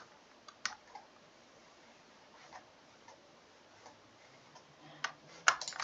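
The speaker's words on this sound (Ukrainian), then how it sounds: "Так, натискаю Ctrl-C, Ctrl-V, копіюю." A computer keyboard gives scattered key taps for copy and paste shortcuts, sparse and fairly close, a few isolated clicks with one sharper press near the end, in a quiet room.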